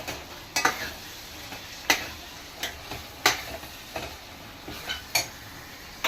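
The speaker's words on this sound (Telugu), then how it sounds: "ఇప్పుడు మనం ఎండు చేపలు వేసుకుందాం" Dried fish frying in hot oil with a soft continuous sizzle, broken by sharp regular clacks of a utensil against the pan roughly every second.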